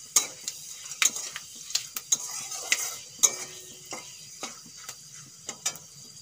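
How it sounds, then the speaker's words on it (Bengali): Panch phoron spices and bay leaf crackle in hot oil in a quiet, close sizzle, with scattered sharp pops and a few light clinks and scrapes of stirring. "ফোড়নে দিয়ে দেবো আমি 5 ফোড়ন আর তেজপাতা"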